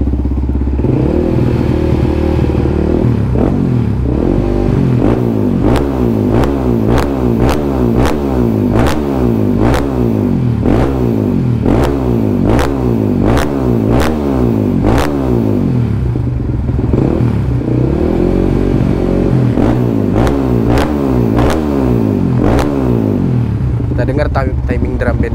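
A Yamaha WR155R motorcycle fitted with a Kala Performance NCAP carbon exhaust revs loudly and close up in a long series of sharp, rhythmic throttle blips, crackling and popping like a drum roll, then settles to a choppy idle.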